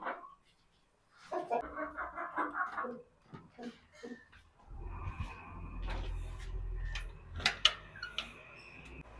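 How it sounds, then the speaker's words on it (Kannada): Backyard chickens, just given food and water, cluck in short scattered bursts, followed by a louder stretch of rustling and low rumble with sharp knocks near the end. "ನಮ್ಮ ಕೋಳಿಗಳಿಗೆ ಊಟ ಮತ್ತು ನೀರನ್ನು ಹಾಕಿ ಆಯ್ತು, ಎಲ್ಲವೂ ಆರಾಮಾಗಿದ್ದಾವೆ"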